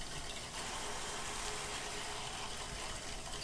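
Wort rushes from a boil kettle through a plate chiller into a Pyrex dish for a homebrewed Bavarian Hefeweizen, a steady, close, continuous gushing pour with no talking.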